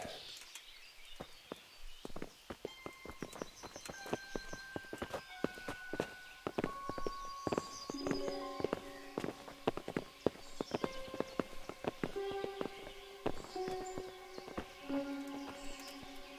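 Horse hooves clip-clop steadily on hard ground in the medieval game Kingdom Come: Deliverance, several horses walking in an irregular overlapping rhythm, fairly faint, with scattered bird chirps and music tones in the background.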